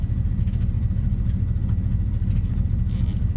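A 1971 Boston Whaler outboard motor idles with a steady, low, close rumble that holds even throughout, with no revving.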